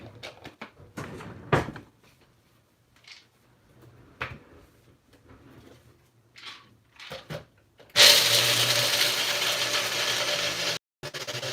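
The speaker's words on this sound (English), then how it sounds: "we'll go grind it up on our bullet" A bullet blender grinding cookie ingredients starts abruptly after scattered handling clicks and knocks, then runs as a loud, steady whir for about three seconds, briefly cuts out and resumes.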